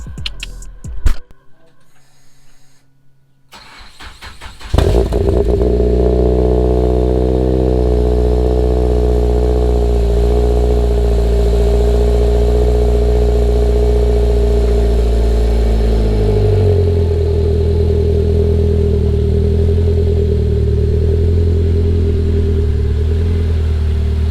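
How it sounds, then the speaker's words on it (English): A Mazda Miata NC starts after some brief handling noises, then its engine settles into a loud, steady idle close by for about twenty seconds, dipping slightly in pitch near the end as the car is eased out of a garage. "let's get the car out of the garage"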